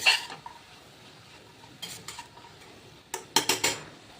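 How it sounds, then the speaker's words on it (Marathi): A large whole tomato sautéed in a pan with cabbage and chana dal, giving faint sizzling under a few quick spoon scrapes and metallic clinks against the pan, louder toward the end. "एक अख्खा टॅमॅटो घातला आहे मोठा तो पण परतून घेते"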